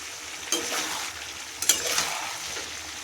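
Mixed vegetables, three curries cooked together with cauliflower, sizzle steadily in a hot pan, with two louder bursts of frying as the spatula turns them, close and continuous with no talking.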